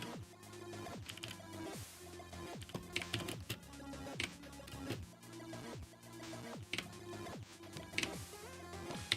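A computer keyboard is typed on in quick, uneven bursts of close, crisp clicking, with no voice over it.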